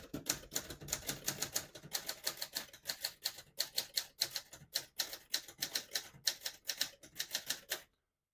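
A 1972 Adler J2 portable typewriter with Elite typeface typed steadily at close range, crisp key strikes landing in quick bursts of ten or so with short pauses between, ending abruptly.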